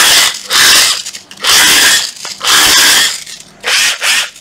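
Secondhand Japanese cordless drill running in strong hammer mode, loud rattling buzzing bursts of hammering, four separate runs with short pauses between, close and without talk.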